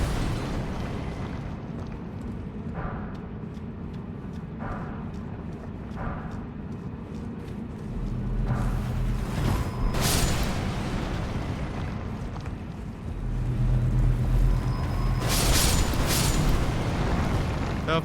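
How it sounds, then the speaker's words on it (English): Exploding enemies on the Altus Plateau in Elden Ring, with a few broad booming bursts over a low, rumbling game background. A heavier blast lands midway and another comes near the end. "There's a bunch of guys that like to explode."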